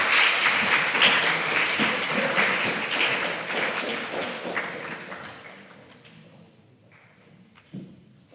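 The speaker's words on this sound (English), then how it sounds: "a huge round of applause as she comes to address us" An audience at a Grade 7 primary school prize-giving ceremony claps for the school principal, sustained applause that gradually fades out, followed by a lone thump.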